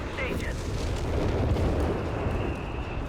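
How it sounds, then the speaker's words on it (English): A Sturmpanzer IV 150 mm howitzer fires in Company of Heroes 3, a heavy rumbling blast that rolls and sustains over battlefield noise. "finding himself outmatched by 150 mm howitzer, meant for blasting apart building blocks"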